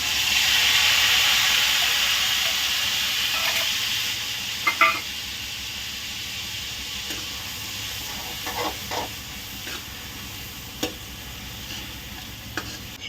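Onion paste hits a hot pan and sizzles loudly with a broad, steady hiss that slowly fades, broken by occasional light clicks of stirring.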